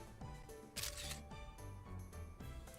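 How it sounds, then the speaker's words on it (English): A camera shutter click from the video game Twisted Wonderland, a short bright burst heard over steady game music. "Shutter noise."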